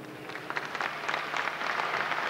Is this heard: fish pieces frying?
no